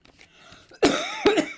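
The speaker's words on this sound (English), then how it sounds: "I apologize for the cough." Two sharp, close coughs, the first harsh and drawn out, the second shorter, after a moment of faint background noise.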